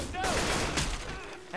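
Sustained bursts of automatic gunfire in Left 4 Dead 2, loud and near, with brief voices breaking in during the shooting.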